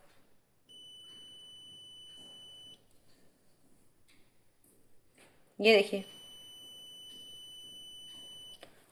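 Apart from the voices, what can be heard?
electronic buzzer sounding through series resistors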